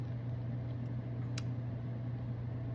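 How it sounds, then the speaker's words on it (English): A fan spinning indoors with an air conditioner running, a steady low hum and broadband whir that holds level throughout, with one brief faint click partway through and no voices. "Sorry about the fan spinning"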